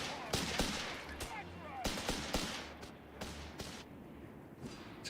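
Machine gun fire in a combat video game comes as sharp, separate bursts and cracks spread across the moment, loud and close over a busy rumbling battle background, with voices mixed in.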